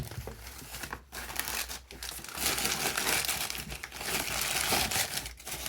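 Continuous crinkling and tearing of plastic G.I. Joe toy packaging being opened, close up, with brief pauses between handfuls; no voices.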